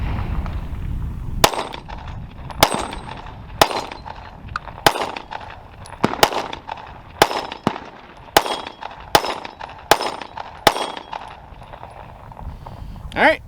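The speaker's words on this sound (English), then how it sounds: "So I'm gonna put a full mag of 10 rounds down the pipe." A Sig P365 pistol fires a full ten-round magazine of defensive ammunition, about ten sharp, loud shots at a steady, slightly uneven pace over several seconds, each echoing briefly.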